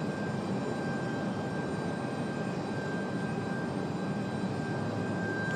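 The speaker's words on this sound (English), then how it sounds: "Our next departure, Delta 1020, this one off to Minneapolis, 737-900" Steady, distant roar of a Delta Boeing 737-900 jet departing Raleigh-Durham International Airport, a constant broadband engine rush with a faint high whine throughout.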